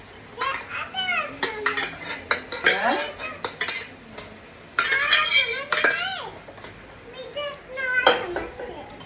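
Khichdi with onion and tomato stirred in a pot with a metal spoon in a home kitchen, repeated clanks and scraping strokes while children chatter and play nearby.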